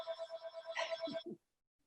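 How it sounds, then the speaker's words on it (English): A mobile phone ringtone plays a quick repeating electronic pattern of pulsed tones for just over a second, moderately loud, then cuts off into silence. "Oh, I had a phone call,"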